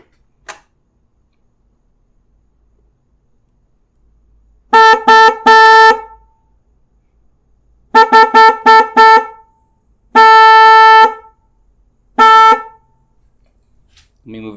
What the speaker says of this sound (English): So this is what that air horn sounds like